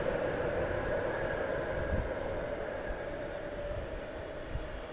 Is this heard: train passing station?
yes